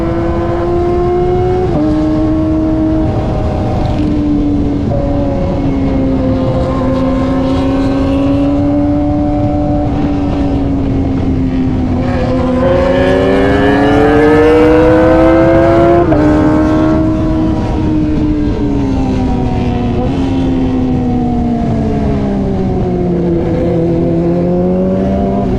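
Kawasaki ZX25R motorcycle with a loud aftermarket exhaust, a high, steady engine drone that rises and falls in pitch as the throttle opens and eases, sustained and close for the whole stretch with no talking.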